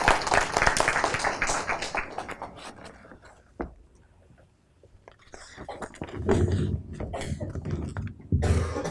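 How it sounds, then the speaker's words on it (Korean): An audience at a library lecture on Korean history applauds to welcome the lecturer, with dense clapping at first that thins into a quiet lull and then rises again, mixed with scattered coughs and murmurs. "그럼 오늘 강의를 해주실 오태진 강사님을 뜨거운 박수로 맞이해 주십시오."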